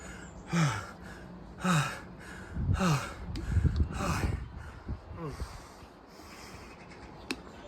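Heavy, gasping breaths from a person recovering after a hard bodyweight workout, several loud breaths in the first few seconds followed by rustling and scraping, then quieter breathing.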